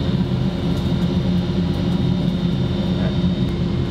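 Jointer planer cutting timber from underneath, a loud, steady machine drone with a low hum and whine that runs unbroken from start to end, with no speech.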